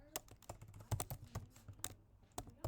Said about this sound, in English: So the Alchemy project is, if I could type this,